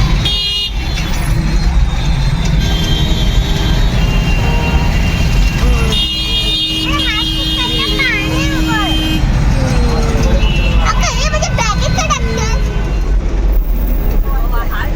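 Street traffic in a jam entering Varanasi: a dense roar of engines with repeated horn toots, some long and some short, plus people talking and calling nearby throughout.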